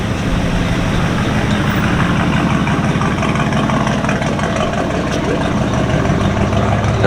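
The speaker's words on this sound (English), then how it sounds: "truck sounds pretty good." A square-body Ford truck idles nearby at a classic car show, a steady low rumble that holds a constant, dense level with no talk over it.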